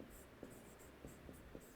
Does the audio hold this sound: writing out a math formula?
yes